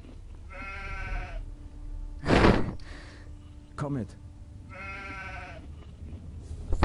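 Sheep bleating in the video game Gothic 2, two wavering bleats a few seconds apart, close and clear, with a short spoken phrase and a brief clatter in between.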